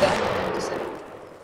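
Musket fire from a line of infantry in a historical battle game, a single loud volley crack at the start that rolls into a long fading rumble and echo.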